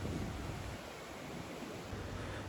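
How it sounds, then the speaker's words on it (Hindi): Steady broadband rush of the flooded Ravi river flowing at Head Balloki, a continuous roar of moving water with wind noise and no voices. "और यहाँ से मेन रावी दरिया गुज़र रहा है।"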